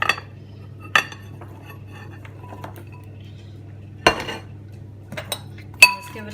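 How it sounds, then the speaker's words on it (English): Carrots and peas go into a pan of drained beef and get stirred, heard as scattered sharp clinks of a utensil against the metal pan with quiet scraping between them, alone over a low hum. "So now I'm going to add in the carrots and the peas."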